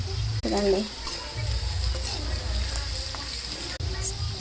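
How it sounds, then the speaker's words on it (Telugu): A tempering of chopped curry leaves and turmeric fries in hot oil for beaten-rice poha: a steady, close crackling sizzle runs throughout, and a voice briefly speaks over it. "ఇలా పోపు అంతా ఫ్రై కావాలి"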